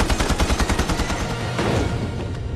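Rapid machine gun bursts in a film scene, loud and close, with sharp repeated shots rattling over about two seconds before giving way to a rumbling boom.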